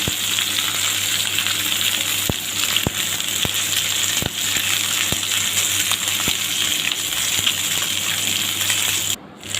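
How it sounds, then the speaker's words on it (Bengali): Hilsa fish frying crisp in hot oil gives a continuous, fairly loud sizzle, with occasional sharp clicks and pops scattered through it and a brief dip near the end. "মাছগুলোকেই কড়া করে এখনই আমি ভালো করে ভেজে উঠিয়ে নেব"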